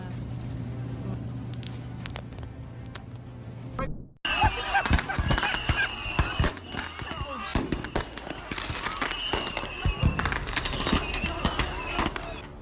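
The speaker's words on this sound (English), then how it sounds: "Messing around with fireworks inside a car instantly turns the ride into a blazing oven" Fireworks going off inside a car, a burst of sharp crackling pops and bangs after a sudden cut, dense and loud over several seconds with roaring hiss between the reports.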